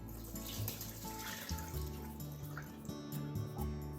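Water pours and trickles from a bowl into a kitchen sink, a soft gurgling splash with drips running continuously and fairly quietly, without speech.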